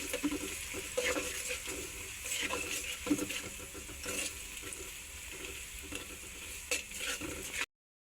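Onions with bay leaves frying in a pan, steady crackling sizzle broken by stirring scrapes and clatters, close and moderately loud, with no voices.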